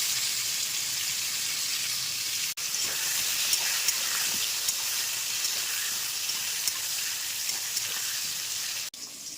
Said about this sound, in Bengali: পটলগুলো বেশ কিছুটা ভাজা হয়ে গেছে, এর মধ্যেই আমি আলুগুলো ভেজে নেবো।